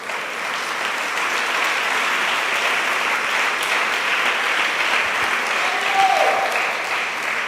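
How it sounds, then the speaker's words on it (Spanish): A church congregation gives the Lord a loud, sustained round of applause: dense, even clapping from a large crowd that fills the room steadily, with no voice over it. "vamos a regalar un aplauso fuerte al Señor"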